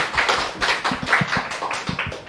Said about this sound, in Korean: 우리 환영하는 박수.